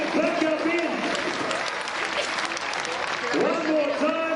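At the Sydney Easter Show, a crowd claps steadily for a trick rider's performance, while an announcer talks over the applause.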